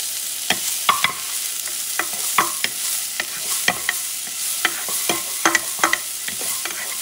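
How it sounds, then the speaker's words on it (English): A quarter of a small onion sizzles in a pan for rosemary rice, its steady frying hiss punctuated by sharp clicks and scrapes of a spoon stirring, close and moderately loud, with no talk. "I'm going to put some of the onion. This is about a quarter of a small onion. Going to caramelize this baby."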